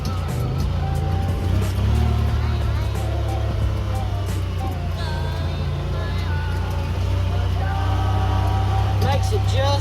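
A Honda Pioneer 1000-5 side-by-side climbs uphill in first gear in turf mode (one-wheel drive), its engine a steady low drone with a voice talking over it throughout.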